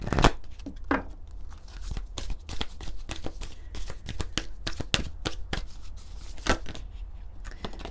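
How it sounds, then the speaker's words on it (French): Oracle cards shuffled by hand, a rapid run of close, crisp riffling snaps and flutters with brief pauses, no talking. "On va prendre quelques cartes de l'oracle de la lunologie."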